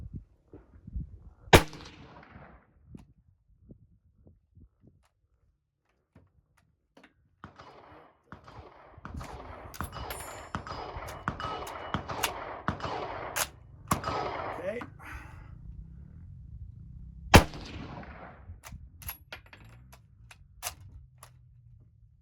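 Lee Enfield rifle fired twice, each shot a sharp, loud crack about sixteen seconds apart, with quiet handling of the rifle and stretches of speech in between.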